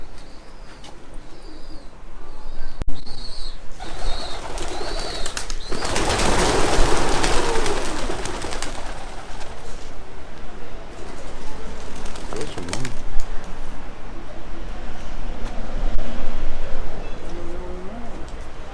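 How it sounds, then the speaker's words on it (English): Feral pigeons coo among steady outdoor background noise near a church in Holmfirth, Yorkshire, while people talk nearby, with a louder rush of sound partway through. "There's pigeons."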